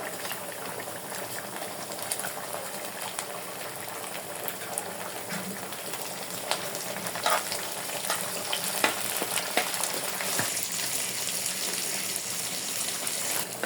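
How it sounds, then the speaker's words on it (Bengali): River shrimp fry with onions and garlic in hot oil in a pan, giving a steady soft sizzle and bubbling with occasional stirring clatter, moderately quiet and heard alone. "আমার পেঁয়াজটা মোটামুটি ভাজা হয়ে গেছে চিংড়ি মাছ দিয়ে দেবো"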